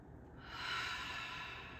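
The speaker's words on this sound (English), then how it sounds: "Take a deep breath here." A slow, deep breath is drawn in and held during a yoga and qi gong stress-relief exercise. It swells into a soft, airy rush that fades gently, heard alone without speech.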